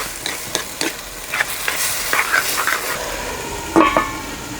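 Onions, tomatoes, turmeric and salt are stirred in a pan for a broad bean and tomato curry, giving a close run of scraping, clattering spoon strokes over a light sizzle, with no voices.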